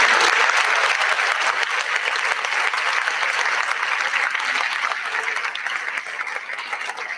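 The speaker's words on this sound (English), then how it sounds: "One more round of applause for our organization." An audience at a fine arts honors night applauds for an organization, with steady, dense clapping filling the whole stretch and easing off only slightly toward the end.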